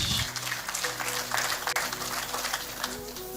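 Applause from a gathered crowd at a memorial gathering for a man named Tito, a dense steady clapping that carries on evenly for several seconds, moderately near, with a voice heard briefly over it.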